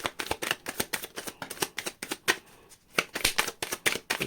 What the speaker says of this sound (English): Last shuffle. Last shuffle.